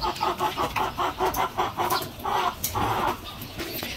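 Backyard chickens clucking close by in a steady, repeated rhythm of short calls, loud and clear with no talking over them.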